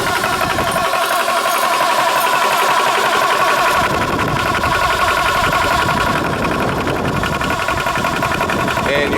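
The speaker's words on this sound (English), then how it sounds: "you'll have your finger on the switch to the compressor" An air compressor runs to fill a PCP air rifle, giving a loud, close, continuous motor drone with a rattling mechanical texture that holds steady the whole time.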